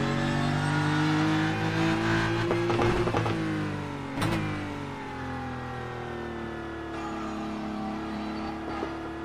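A GT3 race car in the iRacing game revs hard, its engine pitch climbing and then dropping sharply at a gear change before settling into a steadier, rising drone, fairly loud and with no talk over it.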